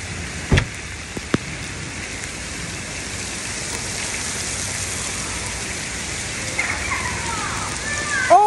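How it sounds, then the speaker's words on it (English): Rain pours steadily during a storm outdoors, a dense continuous patter on surfaces close around the listener, broken by a few sharp knocks early on and some squeaky sounds toward the end. "As soon as I get over there, of course, the rain is going to stop."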